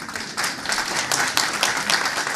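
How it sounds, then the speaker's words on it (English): A conference audience at the 2022 World Bank Annual Meetings session on the Africa region breaks into steady, dense applause, a sustained crackle of many hands clapping at once throughout. "if all the World Bank executives in the room heard it, you can really clap louder."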